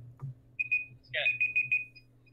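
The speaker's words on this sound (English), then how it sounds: "I think their alarms are going off." Repeating electronic alarm beeps sound during a Fortnite live in-game event called The Device, arriving in quick bursts of short high tones over a low background hum.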